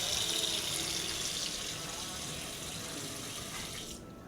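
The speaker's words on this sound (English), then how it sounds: "There's a running water." Tap water running steadily into a sink, a close hiss and splash that continues unbroken and eases slightly just before cutting off at the end.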